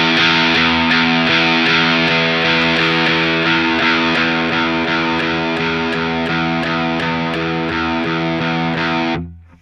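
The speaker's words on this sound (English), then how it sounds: "So the filter sweep gives you something like this." Electric guitar through a ProCo Rat 2 distortion pedal, drive set at noon, with the filter knob slowly swept while a heavily distorted sustained chord rings out, tone shifting gradually before it cuts off abruptly at the end.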